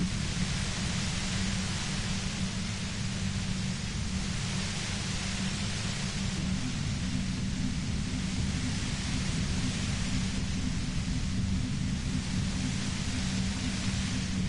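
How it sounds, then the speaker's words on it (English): Dense, steady white-noise static from the Disco Elysium video game fills the whole stretch, a loud unbroken hiss with a heavy low rumble beneath, alone and without talk. "You hear through the white noise. It's especially bad suddenly."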